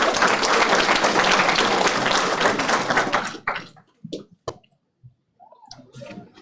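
Dense applause fills a graduation ceremony hall for about three seconds, then breaks off into a few scattered claps and faint rustles before a voice begins to speak.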